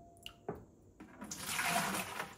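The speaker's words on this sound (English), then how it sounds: "Let's scoop off this whey." Whey scooped off freshly made queso fresco, a brief liquid scoop and slosh followed by a rising watery splash and pour, close and fairly quiet.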